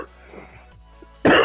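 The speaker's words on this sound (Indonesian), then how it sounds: "Aduh, batuk gua, Kang. Batuk gua." A single person coughs once, a sudden loud, harsh burst at the end after a quiet, breathy stretch.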